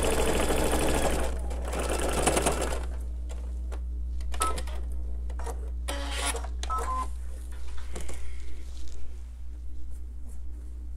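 A sewing machine stitching a quilt block for a star sampler quilt, with a steady mechanical whir and rattling stitch bursts that start and stop, heard close over a constant low hum.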